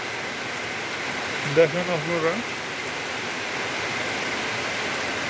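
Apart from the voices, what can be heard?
rainwater falling outdoors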